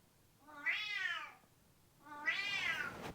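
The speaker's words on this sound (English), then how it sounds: "The cat wants something." A house cat meows twice, close and clear, each meow drawn out for about a second with a pause between them, in a quiet room.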